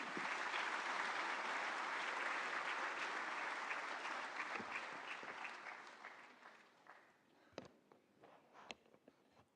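Audience applause at a government event with India's Prime Minister, a full crowd clapping loudly at first and then thinning out into scattered, fading claps, with no voices over it.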